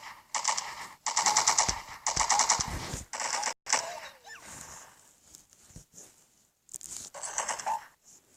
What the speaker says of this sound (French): Je vais prendre la mitraillette.